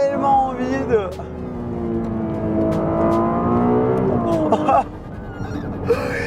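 Ferrari 296 GTB engine revving loud and close, pitch climbing in repeated sweeps with brief gear-change dips, and a voice talking over it.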